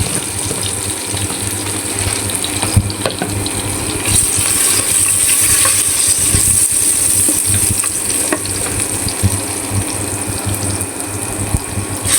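Cinnamon, white cardamom and other whole spices frying in oil at the start of a mutton bhuna, a steady close sizzle with stirring scrapes running throughout.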